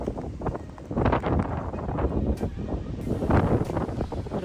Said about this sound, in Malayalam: അപ്പം നല്ല കാറ്റും കേട്ടോ